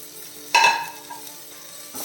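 Chopped tomato and spices are stirred in a pan over a low flame for pepper chicken, giving a sharp metallic clink of a spoon against the pan and then a soft scrape. The sound is brief, close and has no voices.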